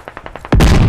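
Gunfire in a squad-based shooter game: a quick run of light rapid pops gives way to a loud, sustained burst of automatic fire up close.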